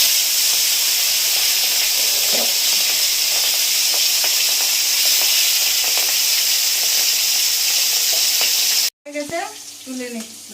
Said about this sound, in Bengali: এতে আমি চিংড়ি মাছগুলো ভেজে নেব।